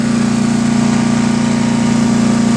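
A DR 208cc chipper shredder engine with 9.5 lb-ft of torque runs loud and close, a steady throbbing drone without pauses or voices.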